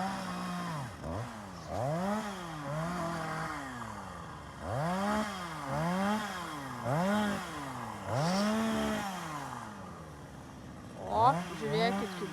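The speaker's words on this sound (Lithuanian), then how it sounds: "kažkas pjauna medžius" A chainsaw cuts trees somewhere beyond a frozen lake used for ice fishing, its engine repeatedly revving up and easing off in rising and falling surges at moderate distance while a person speaks nearby.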